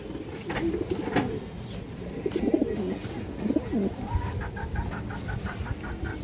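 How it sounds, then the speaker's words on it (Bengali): Palla line pigeons, big-bodied and big-headed, cooing in soft repeated low phrases that overlap through the whole stretch, with a few faint chirps above and steady background hum. "বিগ সাইজের বড় মাথার কবুতর, পাল্লা লাইনের কবুতর দর্শক এগুলো"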